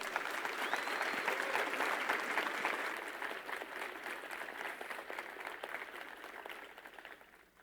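Audience applause welcoming a speaker at the HackConf tech conference, broad sustained clapping that holds steady then gradually thins and fades out.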